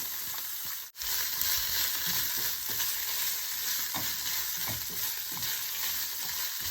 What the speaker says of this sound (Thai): เราก็แค่ผัดให้สุกนิดหน่อยก็พอ